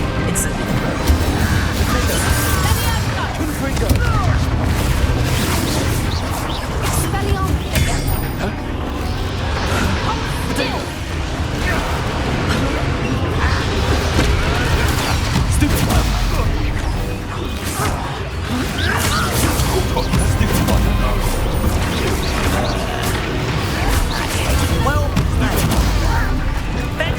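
Confringo spell explosions in Hogwarts Legacy, fought against dragon poachers, bursting amid a dense, continuous din of crashing, booming combat noise that stays loud throughout the clip.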